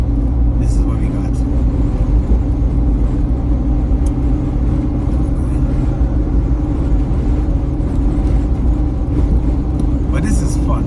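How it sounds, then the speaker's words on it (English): A car drives along a snowy road in New York City, its engine and road noise forming a loud, steady low rumble throughout the interior, with talk in the cabin. "This is fun, driving around in New York City."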